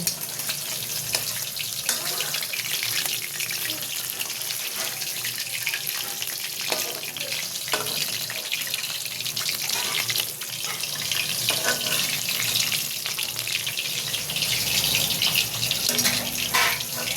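Hilsa fish frying in a pan gives a steady, close hiss of spitting oil that runs without a break and sounds like rushing tap water.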